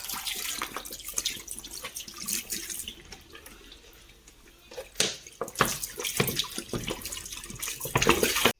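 Water pours and splashes to rinse a washbasin and steel tap, a running, gurgling flow that thins to a quieter trickle midway before surging again with sharp splashes near the end, close and without talking.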